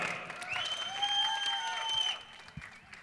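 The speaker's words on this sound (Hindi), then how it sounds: "जोरदार तालियों से स्वागत" Audience applause at a film trailer launch event for the movie Baby, a dense, steady wave of clapping lasting about two seconds before tapering off, with a sustained tone ringing over it.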